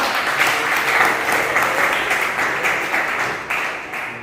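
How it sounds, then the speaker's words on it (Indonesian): A classroom of students applauds a classmate, dense steady clapping from many hands that stays fairly loud and close throughout, easing slightly toward the end. "Tepuk tangan untuk Ferdi"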